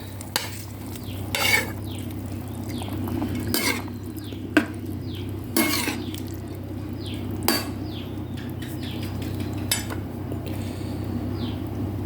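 A spoon scrapes and clanks against a pot as mixed boiled vegetables, eggplant, okra and banana blossom, are stirred into spicy pork curry, in repeated strokes with a soft simmer underneath and no talk.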